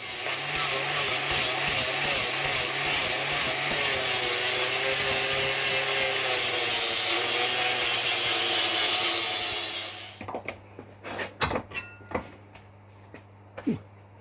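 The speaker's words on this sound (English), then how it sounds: "So let's clean those welds off now and see what we got." On a Ford Escort MK1 seat brace support, a power tool grinds welds off the metal in a loud, continuous rasping whine for about ten seconds, then stops, leaving a few sharp metallic knocks and clanks.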